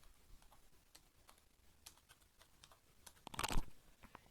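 A name being typed on a computer keyboard: faint, scattered keystroke clicks spaced unevenly, ending in a brief, louder cluster of taps near the end, alone without talk.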